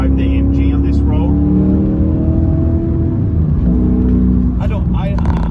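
A manual Porsche Panamera S with a V8 exhaust cruises on a winter road, its engine a loud, steady drone with shifting tonal hum as revs change.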